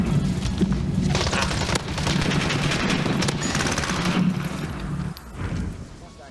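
Video game shooter gunfire: heavy, rapid bursts and booming shots pile up continuously, with voices talking over the constant firing.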